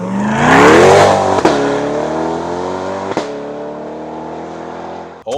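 A 2025 Chevrolet C8 Corvette pulls away hard, its engine note climbing loudly through the revs before settling into a steady drone with brief shift breaks and a final rev burst near the end.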